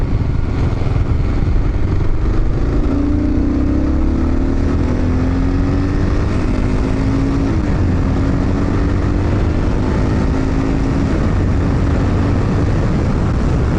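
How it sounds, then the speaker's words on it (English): A Kawasaki KLR 650 motorcycle rides along steadily, its single-cylinder engine droning loud and close under constant wind roar, with the engine pitch rising slightly as it accelerates. "KLR's rolling along nicely. Actually, it's running beautifully."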